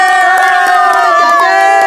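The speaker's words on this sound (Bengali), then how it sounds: "সাকিবের লাগে হাততালি।" A crowd of young people cheers and claps for Sakib during a breath-holding diving contest: loud, close, overlapping shouts and whoops with scattered claps running throughout.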